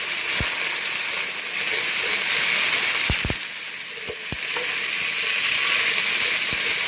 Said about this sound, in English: We'll saute the potatoes here.